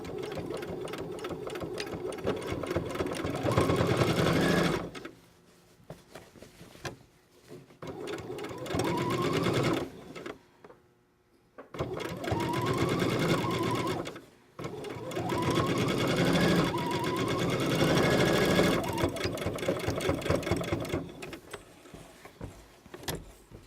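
A sewing machine stitches across a shirt collar in several loud, rapid bursts of mechanical whirring, separated by short pauses where the fabric is repositioned, heard up close.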